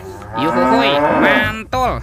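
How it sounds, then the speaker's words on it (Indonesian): A cow moos in one long, loud, wavering call close by, followed by a short second moo, with a voice briefly exclaiming in between. "Yang ini ada hewan sapi mo."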